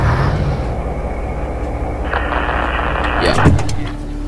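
A fire engine in the video game Feuerwehr 2014 drives with a steady, loud motor drone that holds throughout and swells slightly near the end, with a brief whine rising toward the close.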